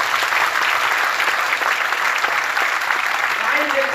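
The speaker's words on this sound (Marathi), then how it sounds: "टाळ्या वाजवायच्या" A large audience claps loudly and continuously during a Marathi lecture. The applause is an unbroken, dense wash with no pauses, heard close and full throughout.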